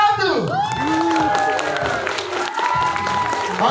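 Audience at Dairyland in Puncak, Bogor, bursting into steady applause and cheering on cue, dense and loud throughout, while an amplified host's voice rings with feedback-like tones over the crowd.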